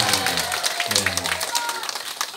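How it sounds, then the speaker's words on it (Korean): Applause from a crowd at a singing class, a burst of clapping mixed with voices and cheering. "박수 한번 주세요."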